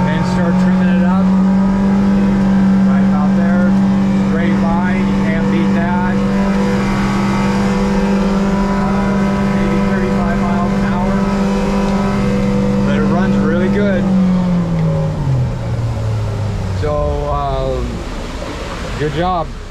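An outboard engine on a 2005 Duckworth 18 Advantage boat runs loud and steady during a water test, its drone holding a constant pitch before dropping slightly near the end.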